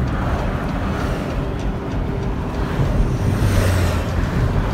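Steady ocean surf washing in on the Malibu, California coast, mixed with wind rumble on the microphone; no voices, continuous and moderately loud.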